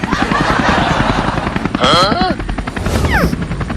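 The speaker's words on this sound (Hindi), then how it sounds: "अरे ये तो हेलीकॉप्टर को उल्टा उड़ाने लगा।" Rapid thudding rotor chop of a helicopter flying upside down drones steadily throughout, with swooping whistle-like tones and voices mixed in.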